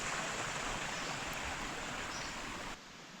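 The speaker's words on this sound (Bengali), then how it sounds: "একটু বাদেই রাস্তার পাশে ছোট জলের ঝর্ণাটা দেখতে পেলাম" A steady rush of flowing water fills the clip, a constant broadband babble from a small roadside stream close by in a forest, easing slightly near the end.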